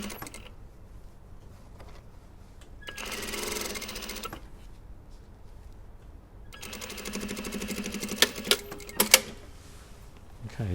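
An overlocker stitches the underarm seam of a blouse sleeve in two loud, fast mechanical runs of whirring, separated by a quiet pause, with a few sharp clicks near the end of the second run.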